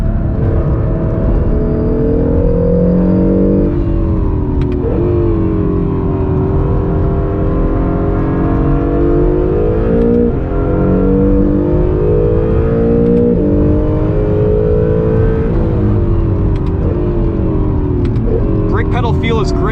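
A 2020 Acura NSX hybrid accelerates hard on a race track, its engine note climbing and falling repeatedly through gear changes, loud and continuous from inside the car with a voice talking over it.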